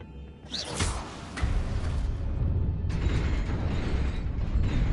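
Incendio fire spell cast in Hogwarts Legacy, a burst of whooshing flame with rumbling booms, then a second fiery surge partway through, loud and close.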